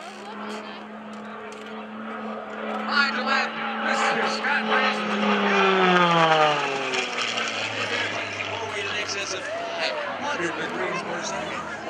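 At an airshow, a U.S.-built aerobatic airplane flown by a Red Bull Air Race pilot roars past with a loud engine drone that sweeps down in pitch as it passes. An announcer talks over it throughout.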